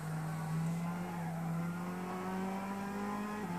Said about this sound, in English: You hear me feathering the throttle off there just to regain the balance back in the car